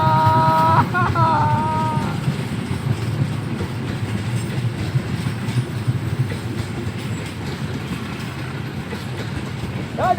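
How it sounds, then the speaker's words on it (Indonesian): A train rolls past with a loud, steady rumble and rattling wheel noise, joined by a brief squeal or horn-like tone near the start and another at the end. "lihat kereta Bu"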